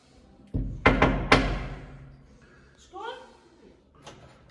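Knocks on a house door as visitors arrive for a surprise: a few sharp, close thumps in quick succession, followed by lighter sounds and brief voices.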